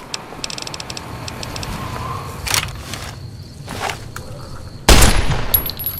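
Gunfire from shooting in a video game, with short rapid bursts of shots early on, scattered single cracks, then a loud sharp volley near the end, heard alone without talking.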